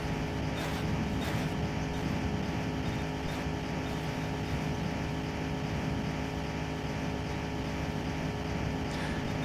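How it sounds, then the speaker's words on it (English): A car engine in the Drunk Driving Simulator video game drones steadily and loudly at high speed along a long road, a constant rumbling roar with no break and no talking. "We could even create a beat out of that engine noise."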